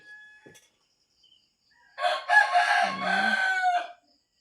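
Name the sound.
rooster crowing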